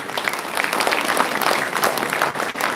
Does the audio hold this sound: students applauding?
yes